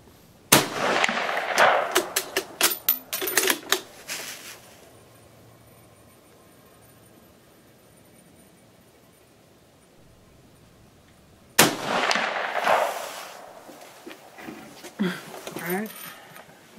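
Carcano 91/38 T.S. carbine rifle fired at a 100-yard outdoor range: two sharp, loud reports roughly ten seconds apart, each followed by brief handling noise and a voice.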